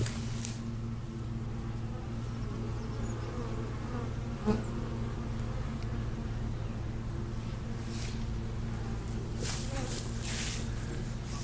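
Honey bees swarm around backyard hives on a farm homestead in spring, making a steady, dense buzz throughout with louder passes as individual bees fly near.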